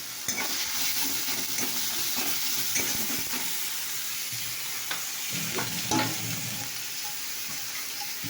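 Ginger and garlic sizzle in hot oil with panch phoron and a cinnamon stick, a loud continuous sizzle broken by repeated scraping stirs of a spatula.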